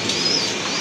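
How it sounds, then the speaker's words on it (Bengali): Pigeons in a loft with a brief, steady mix of soft cooing and wing flutter, close and continuous at moderate level. "এখানে কিন্তু দেখতে পাচ্ছেন আরও এক জোড়া কবুতর আছে।"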